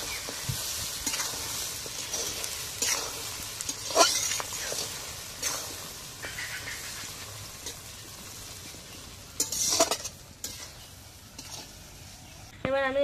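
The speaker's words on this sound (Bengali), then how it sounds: "ভালোভাবে একটু ভাজা ভাজা করে নেবো।" Green chillies and tamarind fry in a pan for pickle, giving a steady sizzle with repeated scraping stirs throughout, close and fairly loud.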